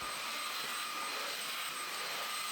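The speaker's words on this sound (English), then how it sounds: "I'm going to make sure that I vacuum it all up" A vacuum cleaner hoovers a laundry room floor, giving a steady, loud, unbroken whirring roar with no voices over it.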